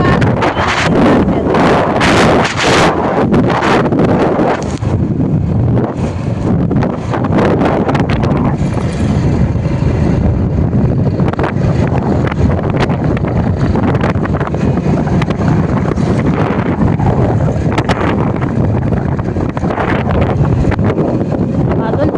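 Strong wind sweeps across open farmland, a loud, continuous rushing that buffets the microphone for the whole stretch with no let-up.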